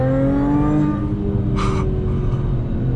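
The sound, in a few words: 2014 Audi A6 APR car accelerating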